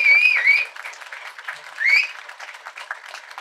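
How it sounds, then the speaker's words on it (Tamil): An audience claps at an event honouring people for social welfare work, the applause swelling at the start and again midway, mixed with whistles and crowd noise that fade into lighter clapping. "அவங்களுக்கு கேட்கட்டும் நம்ம கரகோஷம் இன்னும் ஒரு தடவை அவங்களுக்காக"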